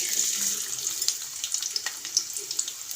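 Sliced onions hit two spoons of hot oil in a kadai, giving a steady, close sizzling hiss with small crackles and pops throughout.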